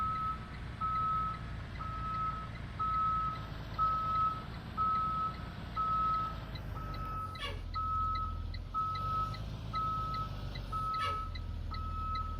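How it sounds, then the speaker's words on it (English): A school bus backing up sounds its reversing alarm, a steady series of evenly spaced high beeps over a low idling diesel rumble, with a couple of brief mechanical clunks partway through. "I'm gonna try to back this up from where I'm at"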